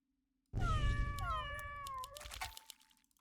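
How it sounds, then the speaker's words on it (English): Cat unit meowing in the video game Legion TD 2, one long drawn-out wavering meow lasting about two seconds, loud and close, with no talk over it. "I will go for a kitty cat. Meow meow."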